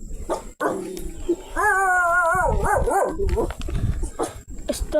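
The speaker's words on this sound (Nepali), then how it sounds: "मलाई मात्र हो कि सबलाई डर लाग्छ कुकुरदेखि" A dog barks and yips repeatedly near a village road where a cyclist rides, with rising whining howl-like cries between sharp barks, loud and close, and no speech.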